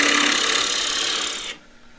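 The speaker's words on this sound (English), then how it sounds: "I'm doing this with an asymmetric 3/8 spindle gouge, fairly steep right wing, so I can get a nice clean cut on the inside." Asymmetric 3/8 spindle gouge hollowing the inside of a freshly cut Japanese maple bowl on a lathe, a loud continuous rasping cut that stops suddenly near the end, leaving a faint hum.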